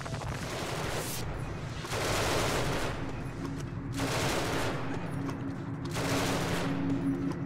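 Sustained bursts of automatic gunfire from the sci-fi video game Genesis Alpha One come in several long volleys with brief gaps, loud and dense, without talk over them.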